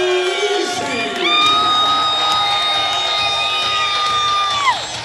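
A crowd at an amateur fight event at the Monona Terrace roars with cheers, whoops and yells after a knockout win, loud and sustained, with a shrill whistle-like tone riding on top.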